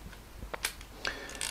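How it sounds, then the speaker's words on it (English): Shutter lever of a Voigtlander Vito IIa camera being cocked, giving a few small, close mechanical clicks and ratcheting snaps spread over a second and a half, quiet and without talk. "you must set the shutter by this lever here, you what we call cocking the shutter"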